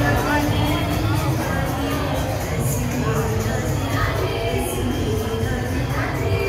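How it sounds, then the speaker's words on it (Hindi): A large crowd at the Radhashtami celebration at Kirti temple in Barsana, a steady dense hubbub of many voices with occasional shouts, close and continuous. "भीड़ अभी दुगनी हो चुकी है, देख सकते हो भाई काफ़ी ज़्यादा भीड़ है"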